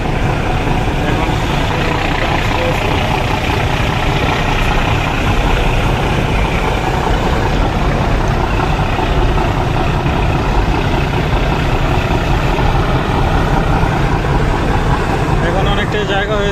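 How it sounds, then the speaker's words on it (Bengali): Engine of river ferry launch 8002 running at a ghat, a steady loud low rumble throughout with constant broadband noise; voices talking underneath. "8002 লঞ্চটি স্টার্ট দিয়েছে"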